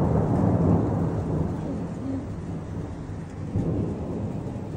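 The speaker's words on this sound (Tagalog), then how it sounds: "At ang lakas pa ng kulog." Deep rolling thunder rumbles over a dense, steady roar of heavy rain, loud and continuous throughout.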